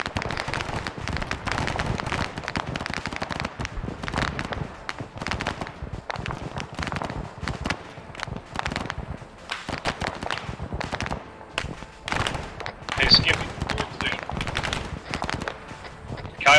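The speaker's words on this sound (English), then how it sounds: "Some heavy fire." Heavy gunfire in SOG Prairie Fire, a Vietnam War combat game: dense, continuous bursts of automatic weapons and scattered single shots, loud and close, with faint distant voices beneath.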